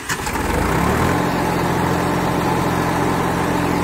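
A Sonalika MM45 tractor's diesel engine runs steadily at a close, loud idle, its low throbbing rumble holding even throughout with no talk over it.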